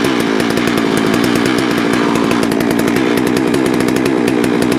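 A Wood-Mizer sawmill engine warms up after the choke is turned off, running at a loud, steady, buzzing high idle with a rapid pulsing rhythm, close and continuous throughout.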